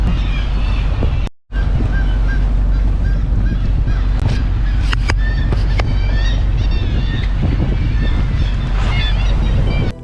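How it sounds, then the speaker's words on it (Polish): A large flock of seabirds calling from a cliff crevice off northern Norway, dense overlapping honking and squawking cries heard from a boat amid heavy wind and engine rumble, with a brief dropout near the start. "Tam jest ogromne stado ptaków."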